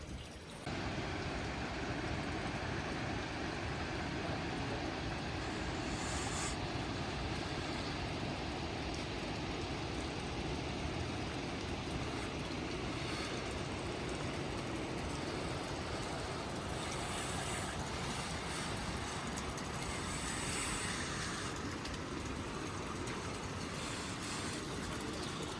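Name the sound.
heavy rain on the Annapurna Base Camp trek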